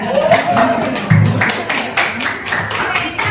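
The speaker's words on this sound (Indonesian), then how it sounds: "Tepuk tangan untuk Yunita." A class of junior high school students claps for the top-ranked student during a report card event, a near, uneven patter of hands with speech mixed in.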